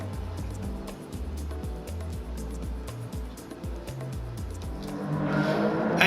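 Race cars at the start of a Gran Turismo 7 race at Red Bull Ring, engines revving in repeated rising sweeps over stepped gear changes, growing louder with a rush of noise toward the end.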